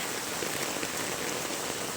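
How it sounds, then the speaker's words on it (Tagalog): Heavy rain pours down in a dense, steady roar, hammering hard and close with no pauses. "So, sobrang lakas po guys ng ulan."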